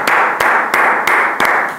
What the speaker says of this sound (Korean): 박수죠 박수